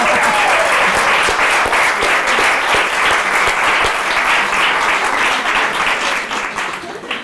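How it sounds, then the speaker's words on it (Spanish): An audience gives Edurne loud, sustained applause, a dense wash of clapping close by that holds steady and then starts to fade near the end. "Bueno, darle un aplauso a la Edurne."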